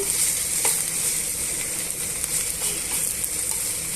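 Okra pieces fry in a pan, a bright continuous sizzle with occasional light scraping clicks of a spoon stirring, close and fairly loud with no voices.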